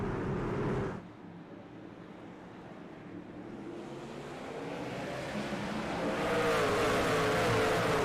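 Racing trucks launching on a restart at Bristol Motor Speedway in a racing video game, a dense roar of engines that dips briefly, then swells steadily louder with rising whine, no talk.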